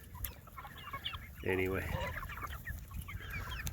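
Farm chickens being fed extra before a storm give a short burst of clucking mid-clip against steady outdoor background noise, with a person talking briefly nearby.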